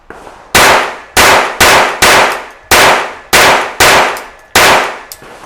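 A Taurus PT55 pistol fires eight sharp, loud shots at uneven intervals, each crack ringing out and decaying briefly before the next, with a faint click after the last.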